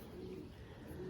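Racing pigeon of a Danny's line, kept as a breeder, cooing in a low steady murmur over continuous loft background noise, no talk.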